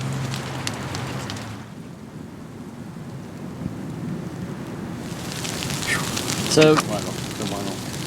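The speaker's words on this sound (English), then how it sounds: "you can probably hear the sleet hitting" Sleet peppers the fabric of a heated tent during a snowy overnight camp, a steady close hiss of tiny impacts that swells near the end, with a brief voice partway through.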